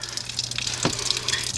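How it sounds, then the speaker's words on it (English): Water draining from an open drain plug on a ski boat engine block, a steady close trickle and splash running throughout. "let the water pee out"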